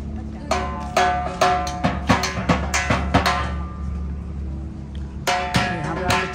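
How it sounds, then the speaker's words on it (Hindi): Rajasthani folk music plays at an outdoor performance spot in Dubai's Al Seef area, with bright plucked and struck notes in rhythmic bursts, a pause near the middle before the strumming returns, and steady background ambience underneath. "ये राजस्थानी म्यूजिक,"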